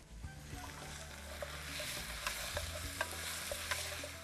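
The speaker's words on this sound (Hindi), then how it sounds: "जब तक ये मटन भून रहा है" Small mutton pieces frying with spices in a pan, stirred so the sizzle comes with scraping and clinks, fairly faint and steady under a light music bed, with no voices.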